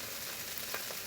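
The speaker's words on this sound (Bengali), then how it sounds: "আমি এটাকে ভেজে নিচ্ছি" Small new potatoes frying in a pan, a faint, even hiss of sizzling oil, steady and quiet throughout the short moment.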